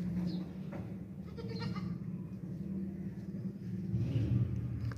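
Dairy goat bleating in a farm setting, a steady low nasal bleat running through the whole stretch over constant background rumble, close and moderately loud, with no talk.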